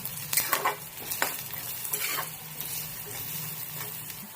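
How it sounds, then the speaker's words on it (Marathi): Onions with salt sautéing in a pan for a village-style pavta bean curry, a soft steady sizzle with a few scraping stirs near the start, close and fairly quiet, no talk. "आपण कांद्यामध्ये मीठ टाकूया, म्हणजे ते कांदा आपला लवकर"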